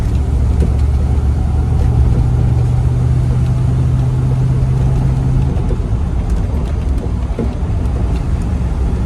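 A 1990 Land Rover 90 V8 County station wagon with a four-speed gearbox drives along, its engine droning loud and steady, then the throttle is released sharply and the tone eases off under road rumble.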